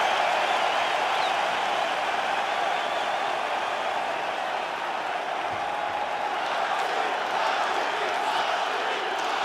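A capacity arena crowd in the UFC 5 video game roars in a steady, loud wash of cheering and applause that holds throughout, with a faint voice now and then underneath.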